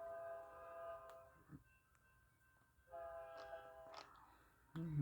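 A westbound Union Pacific train sounds its horn as it passes. Two sustained horn blasts, fairly distant, are separated by quieter rumbling rail noise, and a short louder burst comes right at the end.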